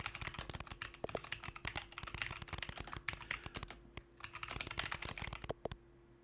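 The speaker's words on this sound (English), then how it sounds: "Nothing says fun times like typing an essay." Rapid keystrokes clatter on a computer keyboard during a Mario Teaches Typing session, close and crisp in dense bursts with a short pause midway, and no voices.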